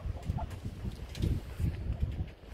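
Young chickens clucking softly in a farm field on a cold winter day, with low, irregular clucks and chirps close by against steady outdoor background noise.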